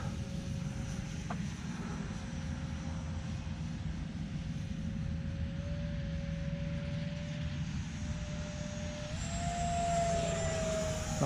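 Arrows T33 RC jet aircraft running at about three-quarter throttle while flying in an air park, giving a steady, fairly loud whine with a broad rumble underneath, rising slightly in pitch near the end.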